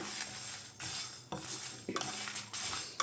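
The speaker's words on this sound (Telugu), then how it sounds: "వీటిని దోరగా వచ్చే వరకు ఫ్రై చేసుకోవాలి" Dry red chillies and coriander seeds tossed in a pan over medium-low gas, with bursts of dry rattling and scraping separated by brief pauses, close and fairly quiet, no voices.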